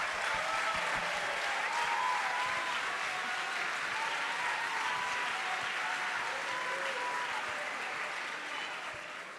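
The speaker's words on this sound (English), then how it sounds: "so round of applause." A large audience at a gathering with the Pope gives steady, dense applause that holds loud for several seconds and fades slightly at the end.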